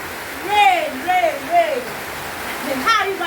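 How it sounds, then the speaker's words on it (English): Heavy rain pours steadily on a house at night, strong enough to threaten flooding, as a constant broadband hiss throughout, with a person talking loudly over it. "the kind of rain that fell today, that I'm scared of because of flood"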